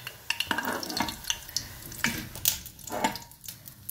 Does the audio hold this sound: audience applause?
no